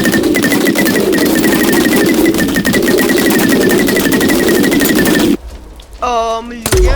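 Rapid-fire weapon in a modded Minecraft game, fired as a grenade launcher: a loud, fast continuous burst of repeated shots for about five seconds, then it cuts off and a short tonal game sound follows.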